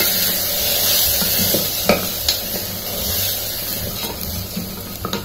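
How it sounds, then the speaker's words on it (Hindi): Whole lentils are stirred in a pan, with a continuous soft sizzle and hiss broken by several sharp scraping and knocking strokes of the spoon, close up and with no one speaking. "साबुत दाल साथ में डाल रही हूँ। थोड़ा हिलाएंगे हम।"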